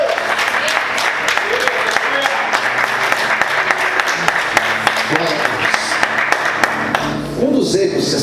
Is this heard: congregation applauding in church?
yes